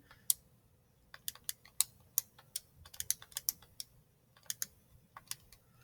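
Quick plastic key presses on a graphing calculator as values are entered, a nearby run of sharp, irregular clicks with short pauses between bursts, no voices.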